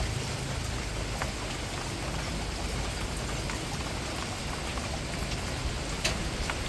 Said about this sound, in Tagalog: Ulan na may kasamang hangin.